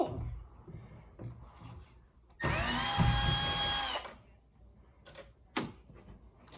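A cordless drill whirs steadily for about a second and a half, backing screws out of a closet door handle, close and loud, with faint handling clicks and taps before and after.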